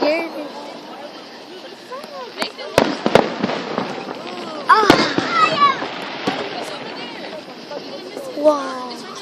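Fireworks exploding outdoors among friends, with sharp loud bangs and crackling bursts, several sudden booms around the middle, while people chatter and exclaim throughout.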